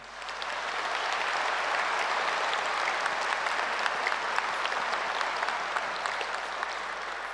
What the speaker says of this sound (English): Let's offer a heartfelt round of applause to all of you for being the very heartbeat of this university